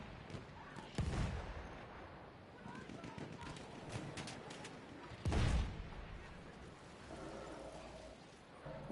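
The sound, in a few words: video game tank artillery shelling a town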